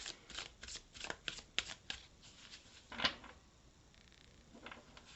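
Cards from the Terra Oracle Deck, a new deck bought on Etsy, shuffled in repeated quick riffling bursts, soft and close, with crisp flicks and a brief louder snap midway.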